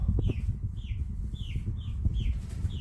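Baby chicks in a brooder cheep with repeated high peeping calls, several per second, over a steady rustle of scratching and movement in the bedding nearby.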